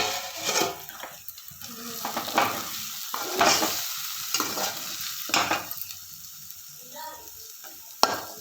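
A spice masala for bitter gourd curry sizzles in a pan while a spoon stirs and scrapes it in irregular strokes, the frying hiss rising and falling, with a sharp metallic clink near the end.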